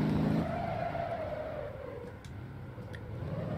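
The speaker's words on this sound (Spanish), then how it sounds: "Así que está la aventura de conducir un coche con un motor V8 ruso." Engine of a car with a Russian V8 in the driving game Motor Town, revving and sweeping in pitch as it slides through a drift, with tyre scrub underneath and the engine note easing off midway.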